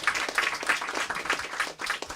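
An audience at an author talk gives a short round of applause, moderately quiet clapping with a loose, uneven rhythm, fading briefly near the end.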